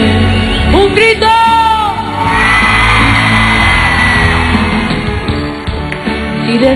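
A live concert audience at a Christmas television show yells and whoops loudly throughout, the crowd's shouts rising over the singing and band music.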